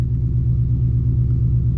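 A 2019 Mustang GT with its muffler deleted rumbles loudly at a cold-start idle, a deep, steady, throbbing drone that holds unbroken and close throughout.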